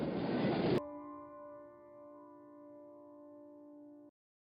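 A cartoon train pulls out of a station: a short burst of rushing rail noise gives way to a sustained steady horn-like tone that holds for about three seconds and then stops abruptly, with no talking.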